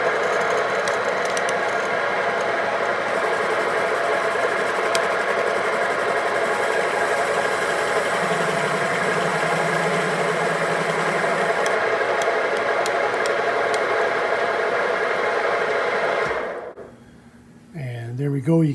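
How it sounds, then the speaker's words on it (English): Milling machine spot facing a Rotax 503UL aircraft engine cylinder head in a workshop, a continuous even whine and hum of the running mill that cuts off abruptly near the end. "So here we are at the milling machine."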